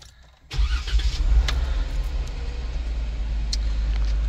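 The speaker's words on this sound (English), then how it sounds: "we are going to go ahead and start the Jeep" A Jeep engine cranks and catches after a brief quiet moment, then settles into a steady, close, rumbling idle with no talking.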